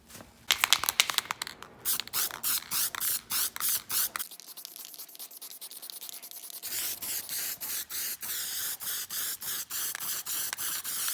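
An aerosol can of varnish sprays over a painted mural wall in a series of short hissing bursts, then in longer, faster pulses, with a brief quieter stretch in the middle.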